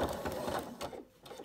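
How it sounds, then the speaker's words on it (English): A sewing machine doing free-machine embroidery on a vintage caravan design runs in quick rhythmic bursts of close mechanical stitching, with a short pause near the middle. "So I'm sewing the bits that I can between the flowers rather than sewing over them"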